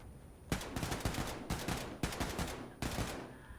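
Enemy gunfire in the shooter game Wolfenstein 2: loud, close bursts of rapid shots, four separate volleys spaced about half a second to a second apart, with no talking.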